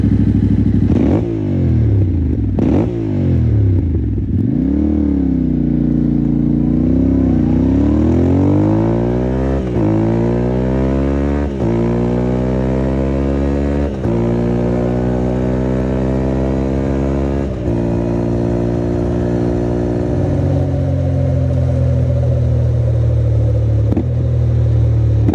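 A Yamaha Tenere 700 motorcycle fitted with an Akrapovic slip-on exhaust is ridden on a road, its engine loud and close as it revs up through the gears in rising sweeps, then settles into a steady, throaty drone.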